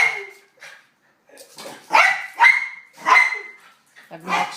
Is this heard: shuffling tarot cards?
no